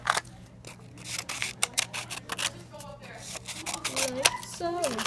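Scissors snipping through paper in quick, irregular crisp cuts, close by, while someone talks over them.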